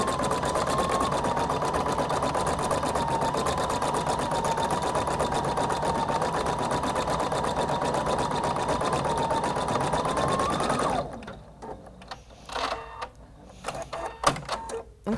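A Husqvarna Viking Designer Brilliance 80 embroidery sewing machine stitches with a fast, steady, close mechanical whir for about eleven seconds, then stops, leaving a few scattered clicks and handling sounds.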